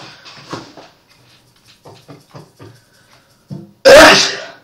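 A single sharp, loud sneeze bursts out near the end, following quiet scattered mouth noises and soft sounds, close to the microphone.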